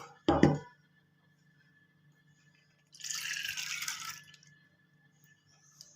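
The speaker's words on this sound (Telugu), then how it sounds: "కుక్కర్లో వేసి ఇంకో కొన్ని వాటర్ వేసిన." Soaked dal and water going into a pressure cooker: one quick close splash, then after a pause a second, longer pour of about a second that ends abruptly, with no talking.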